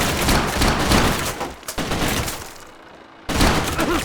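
Dense, loud gunfire from the Max Payne 2 video game rattles in rapid volleys with a short lull near the middle, then resumes sharply.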